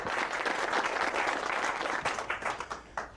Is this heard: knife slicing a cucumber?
no